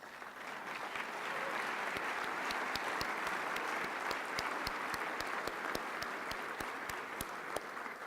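Sustained applause from an audience at a political chairman's event for elected officials standing, steady crowd clapping lasting throughout with scattered louder individual claps.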